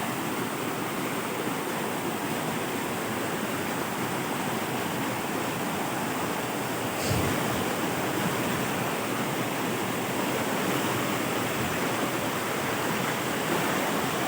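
Meenmutty waterfall in Wayanad, Kerala, roars as a dense, unbroken rush of falling water. It is heard close and alone, with no voices.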